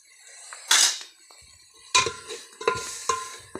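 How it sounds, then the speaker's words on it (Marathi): Masala spices tipped into a hot pan for amti in a village kitchen, giving a sharp brief sizzle followed by several crackling, clattering bursts of frying and stirring, close and fairly loud against a quiet background. "आता आपण मसाला टाकणार आहे"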